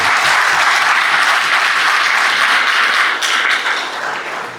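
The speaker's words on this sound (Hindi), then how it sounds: "एक बार जोरदार तालियां आप सब लोग अपने लिए बनाएं" An indoor audience at a real estate seminar bursts into loud, sustained applause, a dense, steady wash of clapping that fades slightly toward the end.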